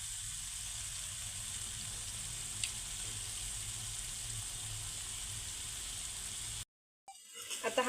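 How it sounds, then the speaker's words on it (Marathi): Boiled potatoes, mashed by hand, being mixed into spices in a frying pan: a steady, faint sizzle runs throughout, then cuts to a brief silence near the end. "बटाटा आपण इथे मसाल्यांमध्ये एकदा मिक्स करून घेणार आहोत म्हणजे बटाट्यांना देखील छान अशी मसाल्यांची चव लागल्या जाईल"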